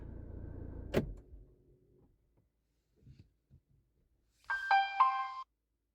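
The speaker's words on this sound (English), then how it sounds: "Let's turn off my car." A Kia Seltos is switched off: a single low thump and rumble fades out, followed after a pause by a couple of faint clicks and a short electronic chime tone.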